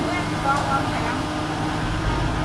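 A concrete mixer truck's drum turns for a final mix of concrete for a garage slab, a loud steady low mechanical rumble and engine drone, with someone speaking over it.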